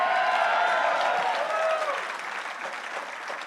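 A dense wash of audience applause with scattered cheers at a political campaign kickoff speech for governor, steady at first and then slowly fading.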